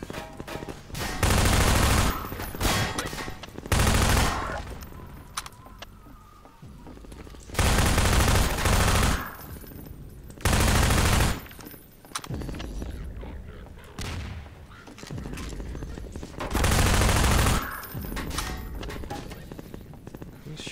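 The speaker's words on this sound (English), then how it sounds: "Who's shooting at us?" Gunfire in the video game Half-Life 2, during a driving section near an old stone bridge: loud sustained bursts of automatic fire recur in several long volleys, with quieter stretches of engine and ambient noise between them.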